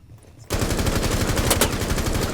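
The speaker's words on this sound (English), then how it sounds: "Free firing down, breaking open that oil pit doorway." Sustained, loud rapid gunfire in a competitive video game match as a doorway is shot open, beginning abruptly after a brief quiet moment and continuing as a dense rattling stream.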